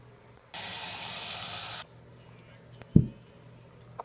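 A spray bottle of alcohol gives one long, loud, steady hiss of about a second, followed by faint clicks and a short thump, with no voices.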